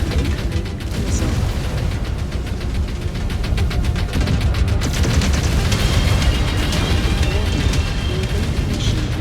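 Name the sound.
incoming missile exploding in MechWarrior 5 Clans video game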